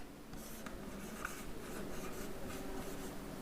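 Chalk scratches and taps on a classroom board as numbers are written, a quiet series of short scraping strokes in an uneven rhythm, close by with no talk.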